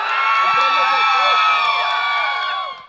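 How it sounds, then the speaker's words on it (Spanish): A crowd cheers, whoops and claps for a contest winner at an event in Chinandega, loud and continuous with children's shouts before fading at the end. "Aplauso para Valeria"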